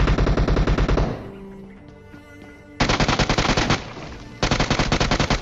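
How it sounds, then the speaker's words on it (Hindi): Heavy automatic gunfire in an intense video game fight bursts out in loud rapid volleys. A brief lull separates the volleys, and the firing is close and dense, with no talking. "अब यार आप आवाज़ सुन रहे होंगे कि बहुत तगड़ी आवाज़ आ रही है, पीछे बहुत गंदी फाइट हो रही है"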